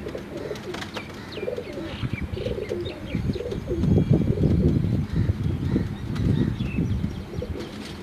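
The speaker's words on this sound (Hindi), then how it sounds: "ये जी असद भाई के परवाज़ी कबूतर हैं" Asad's flying pigeons coo and chirp close by in a soft, repeated rhythm, with occasional wing flaps and no voices.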